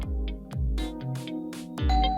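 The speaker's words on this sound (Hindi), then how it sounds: "जिंदगी में पहली बार इतना मजा आ रहा है डोरबेल बजने से" A doorbell chimes rapidly again and again, ding-dong tones repeating in quick succession, close and clear.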